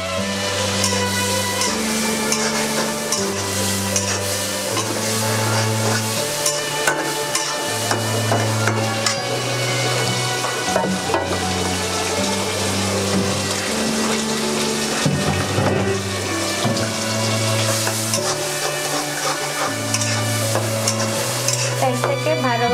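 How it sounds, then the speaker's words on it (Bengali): A spatula repeatedly stirs and scrapes a sizzling shrimp and snake gourd curry frying in a pan, with steady crackle and rhythmic scraping under background music throughout. "মাছটাকে ভালোভাবে নেড়ে চেড়ে নেবেন"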